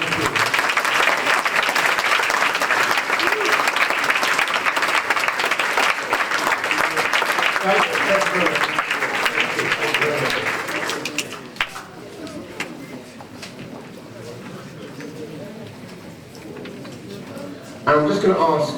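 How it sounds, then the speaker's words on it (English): An audience at a children's awards ceremony breaks into loud, sustained applause for about eleven seconds, then fades, and talk with a murmuring crowd follows before clapping briefly swells again at the end. "can we give all of these children a fantastic round of applause?"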